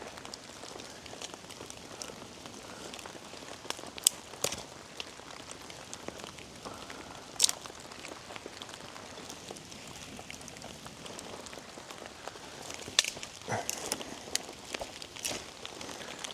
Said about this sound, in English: There must be some sort of primal instinct about tending a fire in the rain.